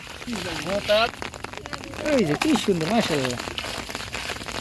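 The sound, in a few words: rain falling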